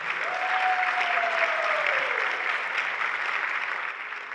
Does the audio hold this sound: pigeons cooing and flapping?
no